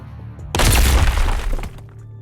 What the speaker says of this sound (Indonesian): api memakan semuanya dan muncullah ledakan nuklir dengan jarak bermil-mil dari bumi.